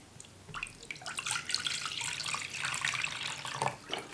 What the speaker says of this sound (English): Now I'm going to fill my water reservoir